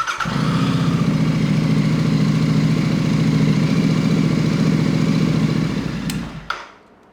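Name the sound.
Royal Enfield 650 motorcycle engine idling to warm up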